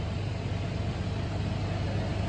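A Chevrolet Tahoe engine running at a steady idle, a continuous low rumble with an even hum, close and unbroken, with no talk.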